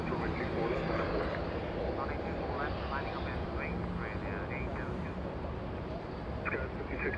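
A Korean Air Boeing 777 jet departing runway 24 left at LAX, a steady broad engine roar heard at a distance alongside airport radio chatter and voices.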